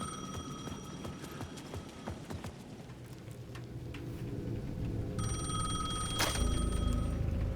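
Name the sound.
payphone ringing in the video game Alan Wake II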